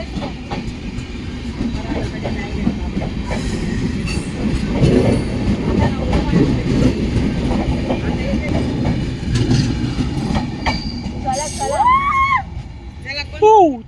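A Konkan Kanya Express with sleeper coaches rumbles along steadily with rattling wagon noise, and a squealing whine rises near the end; a few voices are faintly present.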